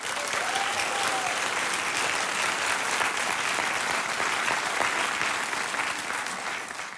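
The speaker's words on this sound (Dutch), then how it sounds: "Mag ik daarom een daverend applaus voor onze live gast van vanavond, Jeanette de Groot" Loud, sustained applause from a studio audience for a live guest on a Dutch comedy debate show, steady dense clapping filling the whole stretch with no talk over it.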